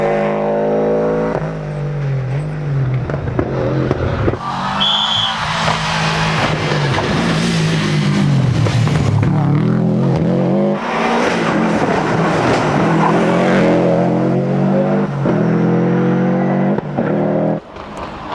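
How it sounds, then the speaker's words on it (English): A loud rally car, an old ProDrive safari car, roars and revs continuously on a stage of the 1996 Manx International Rally, rising and falling in pitch as it accelerates hard, the motor close and dominant throughout. "driving one of ProDrive's old safari cars"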